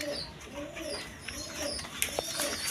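Indian Bombay pigeons with white beaks cooing softly and repeatedly in a loft, low murmuring calls with a few faint wing or perch clicks, no talk over them.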